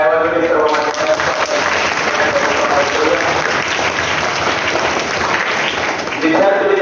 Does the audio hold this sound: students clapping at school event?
yes